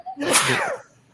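A single loud, close sneeze, a sharp explosive burst lasting under a second, heard alone without talk over it.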